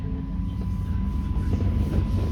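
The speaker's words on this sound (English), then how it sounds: "this train is just going to be moving slowly, and it is going to be stopping at different stops" A tourist train in Belgium rolling slowly between stops, a low steady rumble with soft rhythmic clatter and a faint constant tone, fairly near and without talk.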